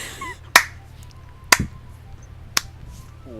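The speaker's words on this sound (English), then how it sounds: "Slow clap for the translators" A slow clap: three sharp, separate hand claps spaced about a second apart, crisp and close over a faint background hum, with no voices.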